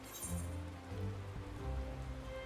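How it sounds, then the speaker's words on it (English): Rain falls in Final Fantasy XIV Heavensward, a soft, even patter of drops on surfaces holding steady throughout, with low sustained game music underneath. "now it's starting to rain"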